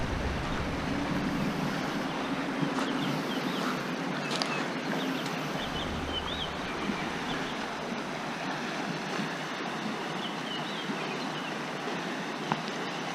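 A creek running higher than normal after flooding gives off a steady, broad rushing of water that holds even and continuous throughout, with no voices.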